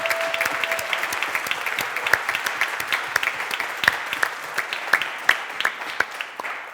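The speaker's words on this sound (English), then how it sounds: "So a quick round of applause for Tom," Sustained applause from the audience at a Cambridge Union debate: dense, steady clapping from a full room, close and fairly loud, running the whole time with scattered sharper individual claps and no talking.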